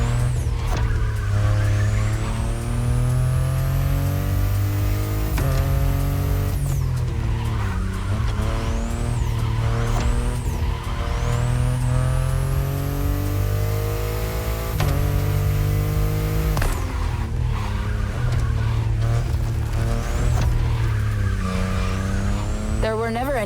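A BMW i8 sports car drives hard in The Crew Motorfest, its loud engine rising and falling through repeated gear changes as tires squeal and skid in corners, with steady music-like drive and no talk.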